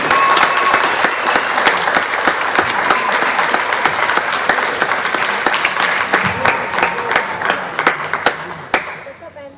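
A loud, dense round of applause rises from a fall concert audience, sustained for several seconds before thinning into scattered claps at the end.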